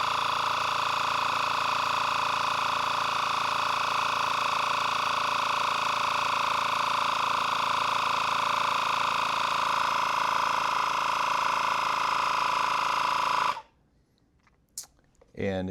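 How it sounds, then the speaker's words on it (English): Portable 12,000 mAh battery air compressor inflating a ball, a loud, steady buzzing motor drone with a constant pitch that runs for about thirteen seconds, then cuts off abruptly into near-silence before a faint click. "A pump that I highly recommend, apart from it being a little loud"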